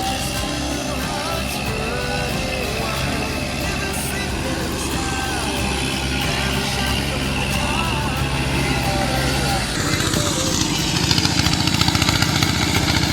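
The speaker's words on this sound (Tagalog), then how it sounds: "Pinusundan yung nag-aararo ng lupa, traktora." A tractor plows soil in a rice paddy being prepared for planting, its engine chugging steadily at a distance, with a gear or load change near the end that brings a rougher, louder rumble.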